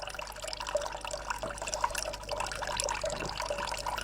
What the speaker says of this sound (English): the resulting liquid from the mixture of steam, water, and lavender comes out more intensely and is collected in the Florentine or watering can